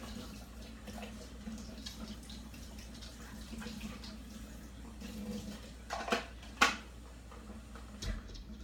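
A ceramic egg cooker is rinsed under running tap water, a faint, steady hiss of flow broken by a few small clinks and splashes near the end.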